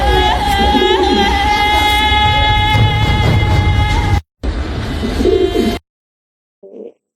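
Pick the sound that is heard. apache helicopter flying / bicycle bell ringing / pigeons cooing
pigeons cooing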